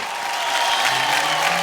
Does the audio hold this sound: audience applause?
yes